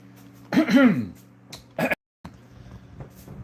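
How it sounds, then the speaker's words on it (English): Someone clears their throat loudly and gruffly, with a short second rasp, before a brief pause and quiet background hum. "Gotta clear my throat for this"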